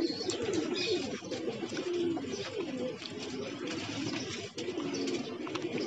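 Pigeons coo repeatedly in soft, throaty phrases, close and fairly steady over a windy outdoor background with faint chirps.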